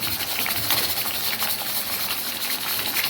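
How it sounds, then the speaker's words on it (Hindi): Mutton frying in ghee in a pan, a dense steady sizzle and hiss without breaks, close and fairly loud, no talking. "तो इसे हम 4 से 5 मिनट अच्छे से फ्राई करेंगे।"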